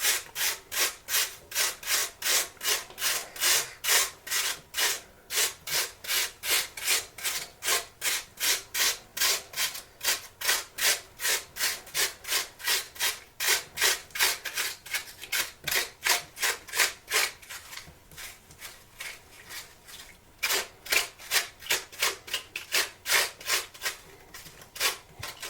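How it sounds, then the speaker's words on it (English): Half an apple rubbed over a metal kitchen grater while making Canadian cinnamon rolls, close and steady, with rhythmic rasping strokes repeating about twice a second throughout, no talking. "I got my grater. I just want to grate"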